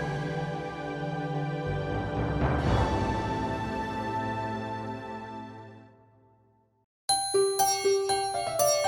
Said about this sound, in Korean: 12시를 알리는 종소리